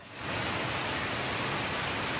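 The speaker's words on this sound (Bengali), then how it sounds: "মংলায় টানা বৃষ্টিপাত অব্যাহত রয়েছে" Steady, dense rain in Mongla, Bangladesh hisses continuously, a broad even wash of sound that swells in at the start and holds without a break.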